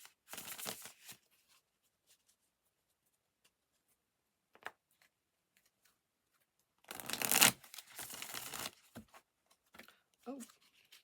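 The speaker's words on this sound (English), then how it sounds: "they want me to shuffle" A deck of tarot cards shuffled by hand in close, crisp riffling bursts, one early and a longer one later, separated by quiet stretches with brief taps and a voice talking near the end.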